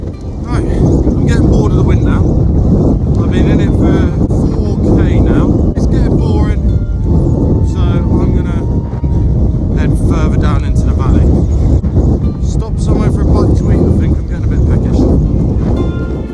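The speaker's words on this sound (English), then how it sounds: "I'm getting bored of the wind now." Strong wind on open Dartmoor moorland near Hound Tor buffets the microphone with a constant loud, deep rumble, and someone talks over it throughout.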